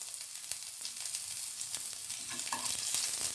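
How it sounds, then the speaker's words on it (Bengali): Garlic and spices frying in hot oil for a Bengali poppy seed chutney, a steady close sizzle with scattered pops and a few light stirring clicks, no voices. "গন্ধ আসা পর্যন্ত এগুলো আমি ভেজে নেব।"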